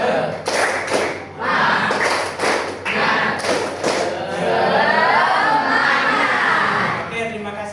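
A class of schoolchildren does a rhythmic spirit clap, tepuk semangat, in a classroom, loud patterned claps and thumps in bursts, then voices cheering and chanting together near the microphone.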